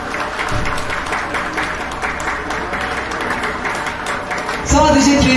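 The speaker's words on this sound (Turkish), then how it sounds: "alkışlar mıyız? Annelerimizi, babalarımızı." Wedding guests in a Turkish wedding hall applaud the couple's parents, a steady wash of clapping throughout that swells louder near the end, with some voices mixed in.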